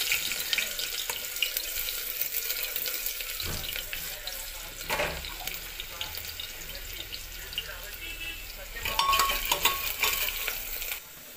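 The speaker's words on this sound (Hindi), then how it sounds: "तेल गरम हो चुका है, अब हम इसमें धनिया के दाने डालेंगे। धनिया के बीज तड़का" Coriander seeds tempering in hot oil in a home kitchen, a constant fine sizzle close by with occasional stirring scrapes and a few clanks, moderately quiet throughout.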